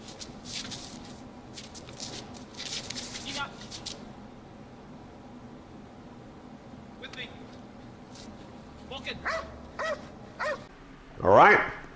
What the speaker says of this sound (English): the dog outs, comes off, and goes right back into position, barking at the decoy